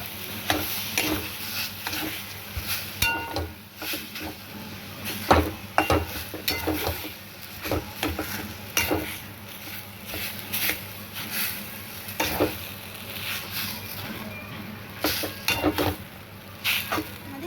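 Mustard paste being mixed into mashed taro in a bowl, a run of soft wet squelches and irregular spoon scrapes and knocks, close up, with a faint background hiss and no talking.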